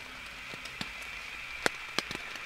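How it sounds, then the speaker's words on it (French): Rain falling on a tent in a forest at night: a steady soft hiss with scattered sharp drops tapping the fabric, several louder hits standing out near the end, with no talking. "Je suis dehors là, je suis sous la pluie"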